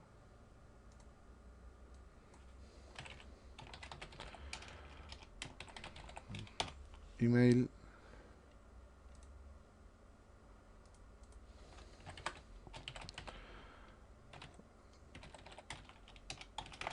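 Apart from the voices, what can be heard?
typing on a computer keyboard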